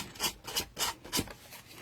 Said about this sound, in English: you're just going to take your sandpaper and you're going to start sanding on your edges